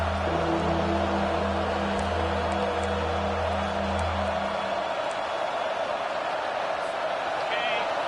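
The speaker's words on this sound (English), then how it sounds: "Decibels rising as the crowd gets behind this defense on third down" Football stadium crowd roaring loudly and steadily at a college game between FSU and LSU as the defense takes the field on third down, a dense, sustained wall of cheering with a broadcast announcer talking over the first half.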